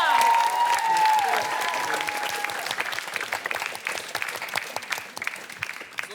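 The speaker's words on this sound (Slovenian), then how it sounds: "En aplavz!" Audience applause at a school award ceremony as a trophy is presented, a steady burst of clapping from a crowd that thins and becomes more scattered toward the end, with a brief whistle-like tone near the start.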